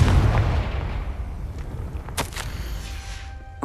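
Confringo blasting spell in Hogwarts Legacy: a loud explosive boom opens, then its rumbling tail decays, followed by a couple of sharp cracks and faint magical tones.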